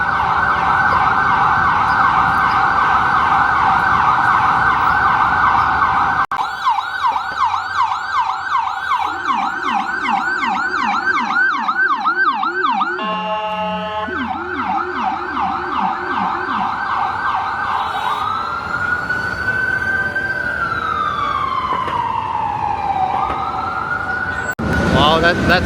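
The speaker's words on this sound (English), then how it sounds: "the sound from the siren." An emergency vehicle siren wails and yelps on a New York City street, loud and close, switching between patterns and ending in a falling wind-down, with faint traffic beneath.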